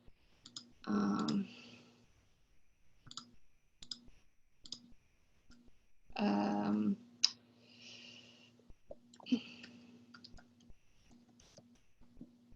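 Computer mouse clicks, a scattering of sharp single taps spread across the stretch, with short bursts of speech in between.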